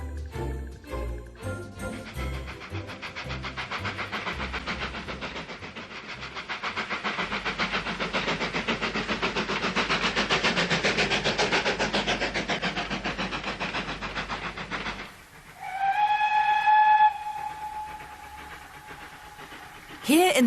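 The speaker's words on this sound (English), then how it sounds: "a train approaches the Berwyn Tunnel on the Llangollen Railway" A steam train on the Llangollen Railway approaches the Berwyn Tunnel in the Dee Valley with a sustained chuffing rumble and hiss, then sounds a clear, loud whistle near the end.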